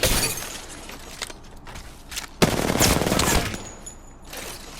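Video game weapon fire in Pathfinder: rapid bursts of gunshots with sharp cracking and shattering edges. A short quieter pause separates the loud volleys.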